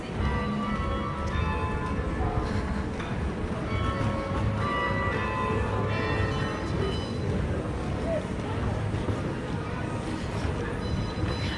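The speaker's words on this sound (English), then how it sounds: "so that was the bells of London Court" The bells of London Court in Perth ring continuously amid busy outdoor ambience and traffic noise on Hay Street Mall, a steady layered chime over the crowd bustle.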